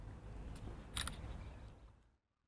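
A phone camera takes an HDR photo, giving one faint, quick shutter click in the middle of quiet room noise that then fades to near silence.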